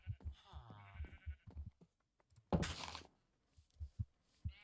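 Minecraft sheep bleat a few times in a game world of shepherds' houses with a loom and banners, short wavering bleats between soft thumps and clicks, with a sharp burst partway through.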